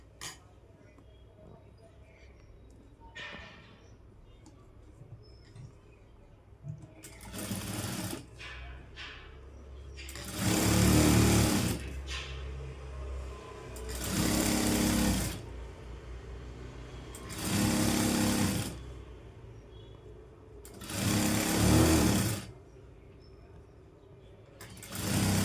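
Sewing machine stitching a Panjabi dress top, heard as four or five loud bursts of fast mechanical whirring, each a few seconds long, with quieter gaps and faint talk in between.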